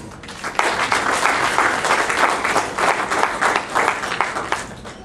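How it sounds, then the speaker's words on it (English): An audience at a formal vote-of-thanks event breaks into sustained applause, dense steady clapping from a large crowd lasting throughout. "A round of applause,"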